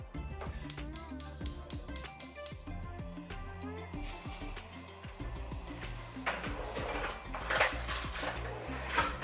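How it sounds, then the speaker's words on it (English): Shelled mussels for seafood chowder are chopped on a board with a fast run of sharp, even knife taps, then scattered clinks of utensils and pans, quiet and close in a home kitchen. "I'm gonna finish chopping off the mussels"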